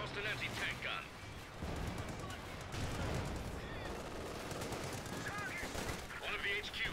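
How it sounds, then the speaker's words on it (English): Dense battlefield gunfire and explosions from Company of Heroes 2 skirmish combat, a continuous clatter of machine guns and rifle shots with booms, loud throughout, with a voice talking over parts of it. "We're being shot at."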